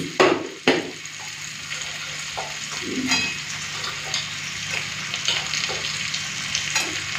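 Steady sizzling and crackling of pre-fried fish and potatoes with spring onions in a pan, with a couple of sharp clinks early on and light stirring scrapes throughout.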